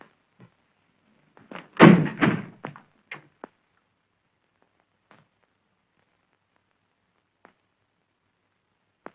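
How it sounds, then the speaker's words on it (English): Doors being shut in an old comedy film: a heavy wooden slam with a rattling thud, followed by a few smaller knocks and clicks, then near silence broken by faint ticks. "Go into the other room and shut the doors."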